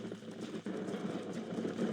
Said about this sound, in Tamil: ஏங்க குதிரை இவ்வளவு வேகம் தாங்க போகுது.